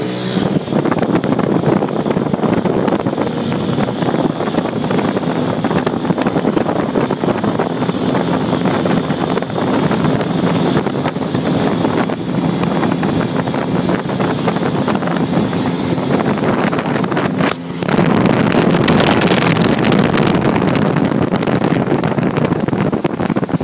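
A small Skeeter Hawk boat with an outboard accelerating to plane: steady engine roar under heavy wind buffeting, a brief dip near the end, then a brighter surge of engine and rushing air.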